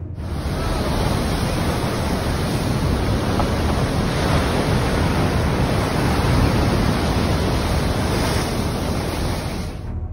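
Steady roar of sea waves and surf off the coast of Cornwall, England, continuous and fairly loud, with a windy rush over the microphone throughout.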